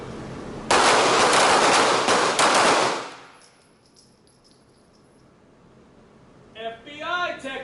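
Handgun fired at a target on a shooting range: a dense, loud volley of rapid shots lasting a couple of seconds, then a quiet ringing tail before a voice speaks.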